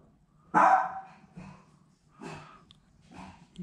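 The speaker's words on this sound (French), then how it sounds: "Ça c'est rien, c'est mon chien de garde." A dog barks three times, a sharp loud bark followed by two slightly softer ones spaced about a second apart, with faint breathing in between.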